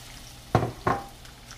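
Perch and crappie fillets are laid into hot grease, and each drop brings a short sizzling burst. Two quick frying hisses land close together against a faint steady background.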